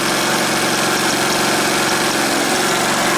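An Energizer eZV3200P portable generator idles in eco mode, its engine running loud, close and steady with a constant broadband drone and a low mechanical pulse, and no voices.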